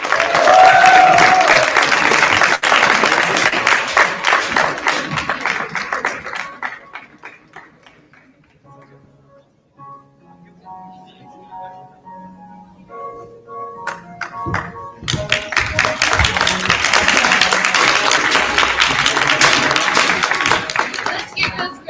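Loud, dense applause from an audience at an international students' graduation ceremony, fading out in the middle to a quiet stretch with scattered tones and soft thuds, then swelling back to full clapping.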